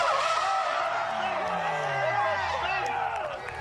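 A D1 drift car spins out at Oran Park, its tyres letting out a long, loud, sustained squeal with a falling engine note beneath, as a crowd murmurs in the background.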